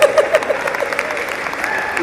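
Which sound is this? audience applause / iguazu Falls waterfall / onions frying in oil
audience applause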